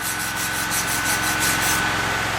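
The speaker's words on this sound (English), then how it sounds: "I put the young man to good use with the chipping hammer and the wire brush" A wire brush scrubs black slag off a fresh stick weld in a steady, close, rasping scrape with quick repeated strokes, loud and continuous with no talking.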